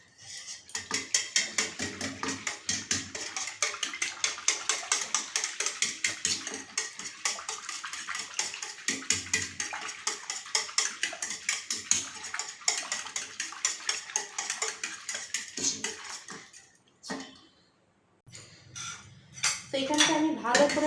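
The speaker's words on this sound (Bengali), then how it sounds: "তো এখানটা আমি ভালো করে ফাটিয়ে নিয়েছি, দেখো ফেনা ফেনা হয়ে গেছে" Yogurt for misti doi beaten hard in a bowl until frothy, a fast rapid clatter of utensil against the bowl going on steadily for most of the time, then stopping before a few scattered clinks at the end.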